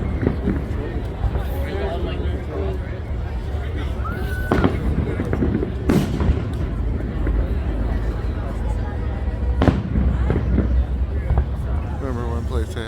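July 4th fireworks bursting over downtown Portland, with repeated sharp booms and crackles at a distance under steady crowd hubbub and nearby talking.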